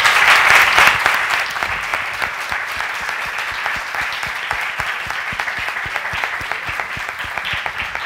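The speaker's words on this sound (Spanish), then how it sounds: "yo os pido un aplauso para estos colaboradores tan majos" A festival talk audience gives loud, steady applause for the collaborators, with a thick layer of fast clapping and a brief burst of cheering at the start.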